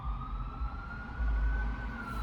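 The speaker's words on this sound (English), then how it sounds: "Sirens." Emergency vehicle sirens wail at a distance, a steady rising tone drifting over low rumbling traffic noise, continuous and moderately faint with no talk.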